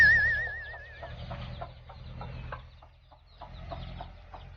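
Soft hen clucks repeat at a moderate distance as a mother hen broods her chicks, with faint higher chick chirps mixed in and a quiet outdoor background.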